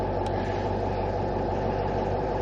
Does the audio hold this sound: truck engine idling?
yes